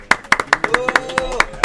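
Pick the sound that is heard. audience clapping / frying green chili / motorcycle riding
audience clapping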